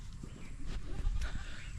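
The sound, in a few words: goat bleating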